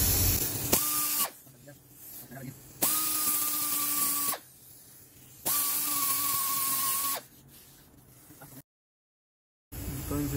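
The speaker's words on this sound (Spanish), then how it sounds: "antes de soldarlo, lo voy a lijar un poquito aquí para que agarre la soldadura" Three bursts of a whirring power tool sanding metal before welding, each lasting a couple of seconds, separated by quieter gaps with faint noise.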